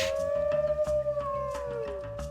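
Wolf-like animals howling in the zoo game Planet Zoo at an abandoned county fair, one long sliding howl over a soft background of rhythmic game music.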